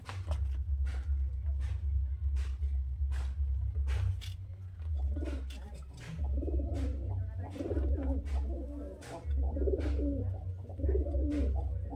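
Rampuri pigeons cooing in soft, repeated bursts from about midway on, close by, over a constant low rumble and intermittent clicks and taps.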